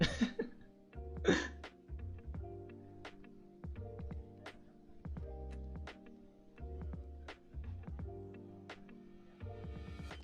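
A person suffering from allergies coughs and clears their throat several times over a faint background hum, close and fairly quiet, with short bursts separated by pauses.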